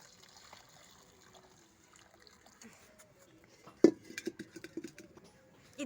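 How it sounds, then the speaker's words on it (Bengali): Hot water splashes and trickles over a slaughtered country chicken in a pot after a quiet start, beginning with a sudden pour and continuing as a series of close, irregular splashes and dribbles. "এই মুরগিটার গায়ের উপরে গরম জলটা দিয়ে দিলাম।"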